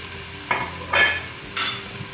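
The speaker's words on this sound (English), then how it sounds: "We're gonna add in our ground beef that we pre-broke up with our hands." Ground beef hits hot avocado oil in a pot, giving three short bursts of sizzling and stirring scrapes over a quiet background, close by and with no one speaking.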